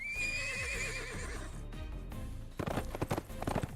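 A horse in the video game Phantom Bride gives a loud, wavering whinny that fades, followed by a burst of quick hoof clatter and thumps.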